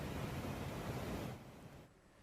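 Water rushes out of four opened radial gates of a dam in Jharkhand, discharging about 12,800 cusecs after continuous heavy rain, as a broad, steady roar that drops away abruptly near the end.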